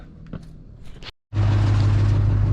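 A truck engine running rough starts up after a brief silence, then runs with a loud, steady, rough rumble that fills the rest of the clip.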